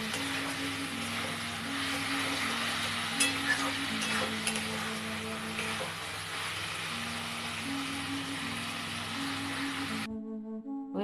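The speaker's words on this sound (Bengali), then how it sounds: "আঁচটা বাড়িয়েই নাড়াচাড়া করতে হবে।" A rui fish head and pumpkin curry is fried and stirred over high heat in a continuous close sizzle, with occasional scraping and soft background music throughout.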